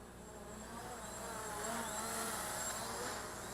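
A Visuo K1 Pro drone at max throttle gives off a thin, steady high motor whine that swells a little as it passes at a distance, fairly faint against the outdoor background.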